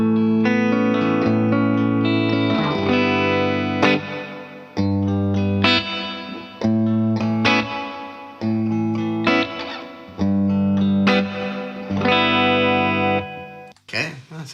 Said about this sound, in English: it's a Hall of Fame reverb